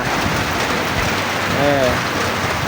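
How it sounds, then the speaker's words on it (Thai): Steady rain falls over rice paddies in Vang Vieng, Laos, a dense even hiss of drops with a brief faint tonal sound midway and no talking. "มีฝนตกลงมาแล้วทุกคนตอนนี้เนาะอยู่ที่วังเวียง"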